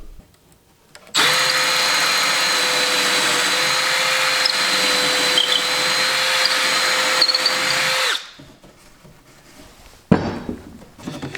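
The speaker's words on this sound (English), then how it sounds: "and then I have to drill the hole, complete drilling the hole all the way through" A power drill bores a hole through wood for a folding BBQ prep table, whining steadily and loudly for about seven seconds before stopping, followed by a short burst of handling noise.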